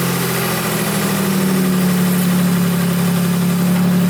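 A Nissan 300ZX Z32 idles with one ignition coil unplugged, the steady close-up engine hum taking on a slightly rougher, uneven pulse partway through, with no talking.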